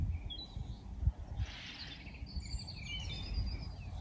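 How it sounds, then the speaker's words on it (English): Soft bird calls and chirps in a quiet off-grid rural spot, faint high tweets scattered over low background rumble, no talking. "peace and quiet and a bit of bird song"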